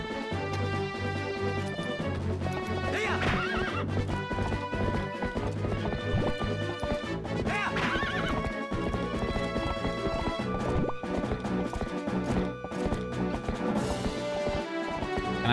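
Rhythmic clip-clop of galloping hooves with horse whinnies in The Legend of Zelda: Twilight Princess, steady and loud over continuous game music, with no voices.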